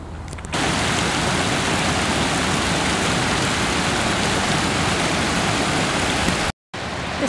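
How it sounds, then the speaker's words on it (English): Rain falls steadily on a canal boat while the sun shines, a dense continuous hiss that starts abruptly after a brief quieter moment and briefly cuts out near the end. "The sun is shining, but it's still raining."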